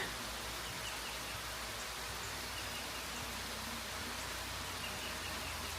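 Steady, even rainfall hissing on surfaces, constant and fairly soft with no pauses or voices.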